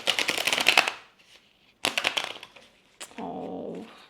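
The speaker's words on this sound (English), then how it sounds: "Oh, that was a crappy shuffle." Two quick riffling bursts of cards being shuffled, separated by a short pause, then a brief low muffled sound at the end.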